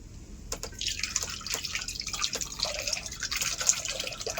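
Water dripping from yogurt strained through a thin cloth, with irregular small drips and trickles close by over a quiet background, and no voices.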